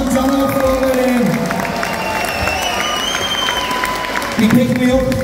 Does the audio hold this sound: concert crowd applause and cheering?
yes